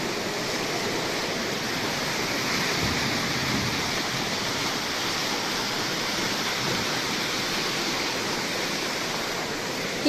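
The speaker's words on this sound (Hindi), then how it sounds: "उफान पर है बरसाती नाला" Swollen rain-fed stream in Uttarakhand rushing after heavy rain, a steady loud broadband roar of churning water with no pauses, constant and close throughout.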